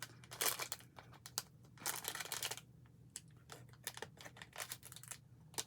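A crinkly plastic Temu shipping bag with tape on it is handled up close: quiet bursts of crackling and rustling, some short and some sustained, with gaps between.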